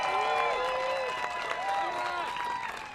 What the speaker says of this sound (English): Let's give her a big round of applause, Brigham City.